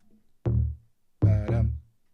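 A Nexus synth bass layer plays a short melodic line, three punchy notes with quick decay separated by brief gaps, clear and alone.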